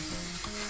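Ground pork or beef sizzling in a pan with onions for stir-fried eggplant, heard as a brief, dense, steady frying hiss that sounds close and fills the whole moment.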